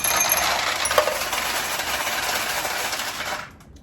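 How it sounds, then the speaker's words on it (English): Steel balls in a 1971 Nishijin Model A pachinko machine roll and rattle down toward the middle hopper, a dense metallic clatter that holds steady for several seconds before stopping abruptly. "the noise you just heard is more balls going from the top to that middle hopper"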